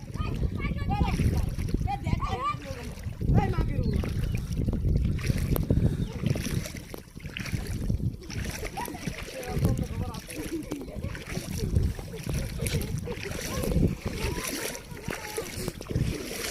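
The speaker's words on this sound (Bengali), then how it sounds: "4 জন মিলে টেনে টেনে নৌকা পার করলো।" Four people haul a wooden boat across a river by hand, with water splashing and sloshing around the hull, wind gusting at the microphone and voices calling out now and then over the churn.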